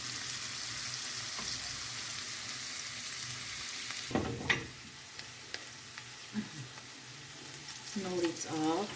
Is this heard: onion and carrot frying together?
yes